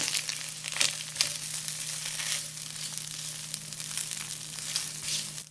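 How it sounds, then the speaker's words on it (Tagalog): Garlic rice frying in a pan with oil, a steady close sizzle with brief crackling bursts and stirring scrapes, no voices. "Tapos, ilagay na natin yung bawang. Magsangag na tayo ng kanin."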